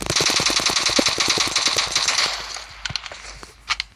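Fully automatic MK47 fire in the BGMI mobile game, a loud rapid burst of close gunshots for over two seconds, followed by a few scattered single reports and clinks.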